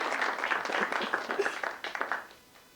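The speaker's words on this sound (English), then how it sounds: "You all could give her a warm round of applause." Warm applause from a panel discussion audience on childcare and work, a fairly close patter of many hands that thins out and fades toward the end.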